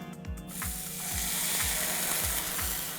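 A marinated minute steak sizzles in a pan over a low fire, giving a steady broadband hiss that rises after a brief start. Regular low clicking thumps repeat beneath it, and no one speaks.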